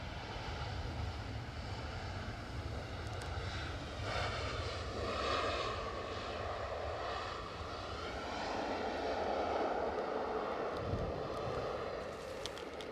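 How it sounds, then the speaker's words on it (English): An EasyJet airliner inbound from Prague passes at Edinburgh Airport, its engines a steady, moderately distant roar that swells and fades gently across the stretch with no talk. "that EasyJet was an inbound from Prague"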